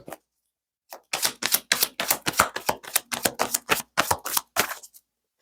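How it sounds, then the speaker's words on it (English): A deck of tarot cards shuffled close by in a burst of quick, crisp riffling clicks that run for about four seconds after a brief pause, with no voices. "One more shuffle."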